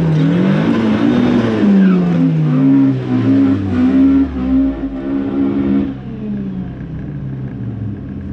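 A 1.8T Mk2 car launching on a quarter-mile drag strip at Killarney: a loud, close engine revs hard and climbs through gears for about six seconds, then drops away to a lower, fading drone.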